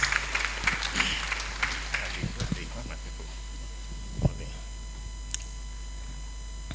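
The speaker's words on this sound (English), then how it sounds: "Let's welcome him with a round of applause, please." An audience at a professionals' conference applauds to welcome a speaker, a fairly quiet wash of scattered clapping with a few sharper claps standing out over a steady hum.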